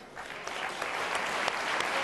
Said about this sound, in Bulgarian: Аплодисменти за Радослав Янков.